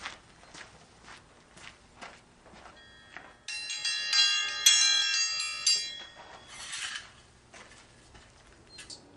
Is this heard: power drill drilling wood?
no